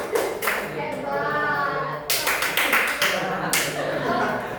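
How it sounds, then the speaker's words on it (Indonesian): A classroom group claps together in a rhythmic cheer, bursts of loud hand claps with a pause in the middle, while children chatter and chuckle underneath. "Kasih aplaus, tepuk hebat."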